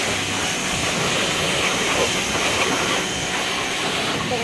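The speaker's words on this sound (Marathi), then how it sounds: "बघू शकता तुम्ही पाण्याचं प्रेशर आणि गाडी कशी क्लीन होती." A pressure washer sprays water hard onto a car during cleaning, a steady broadband hiss with no breaks, loud and close throughout.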